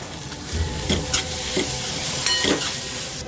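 Red chilli powder, garam masala and Schezwan chutney are stirred together in a frying pan for Indian-style pasta, several scraping spoon strokes over a steady loud sizzle.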